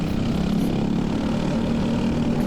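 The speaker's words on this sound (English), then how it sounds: "You can hear me hitting the rev limiter a lot in this race." LO206 kart engine racing in the rain, buzzing steadily at high revs near the rev limiter, a loud close drone with a strong low tone and little variation.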